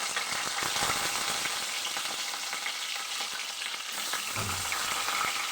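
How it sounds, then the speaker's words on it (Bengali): Dried fish (shutki) fries in hot oil, a loud, dense, continuous sizzle and crackle with brief stirring scrapes, close to the pan. "দেখতেছো তেলটা গরম হয়ে এসে তখন আমি শুটকি মাছগুলো দিয়ে দিই।"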